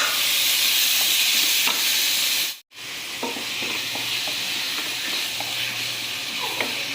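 Prawns sauté in a pan for Chettinad prawn gravy, a constant close sizzle with occasional stirring scrapes, briefly cut to silence midway before the frying hiss resumes, no talk.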